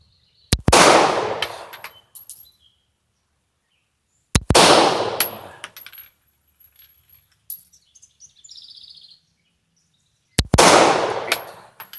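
A Walther P38 pistol fires three sharp, loud single shots spaced several seconds apart, each cracking out and decaying quickly, with faint clicks and mechanical handling noises between them.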